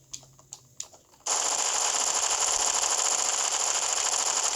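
Rapid gunfire from a shooting video game: a few separate shots, then a loud, continuous burst of automatic fire that holds steady to the end, with no talking over it.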